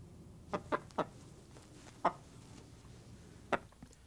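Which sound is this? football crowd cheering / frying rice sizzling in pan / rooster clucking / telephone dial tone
rooster clucking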